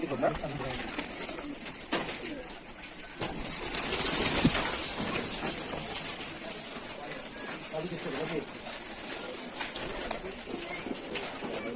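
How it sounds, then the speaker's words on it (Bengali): Several Rajshahi Giribaj pigeons coo and flutter close by at a pigeon farm, a soft murmuring chorus under people talking nearby. "এখানে কতটা কবুতর আছে ভাই"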